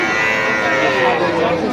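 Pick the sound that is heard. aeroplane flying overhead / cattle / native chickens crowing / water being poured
cattle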